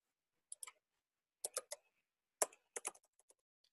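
Computer keyboard typed on while entering asteroid observation details: short bursts of crisp, close key clicks separated by brief pauses, quiet and with no talking.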